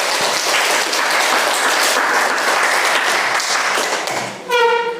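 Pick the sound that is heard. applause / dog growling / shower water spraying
applause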